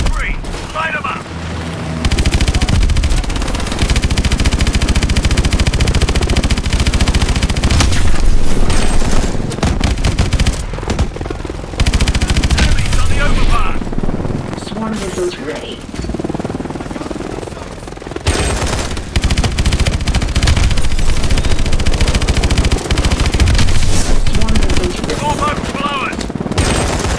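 Machine gun fire in Call of Duty: Advanced Warfare on PC, Terminus mission, roars loud and close in long sustained bursts with heavy booming impacts, pausing only briefly.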